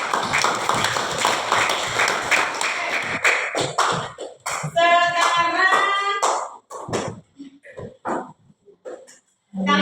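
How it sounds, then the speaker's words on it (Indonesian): An audience claps for the room in an Indonesian classroom or presentation setting: dense, loud applause for about four seconds, then thinning into scattered separate claps, with a few voices and a whistle-like tone mixed in. "Tepuk tangan dulu untuk kita semua."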